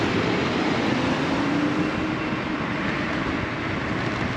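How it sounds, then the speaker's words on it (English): A steady, loud rumbling roar of a passing commuter train fills the whole stretch, with broadband rail and wheel noise and no talking. "I get to see a train or trolley go by."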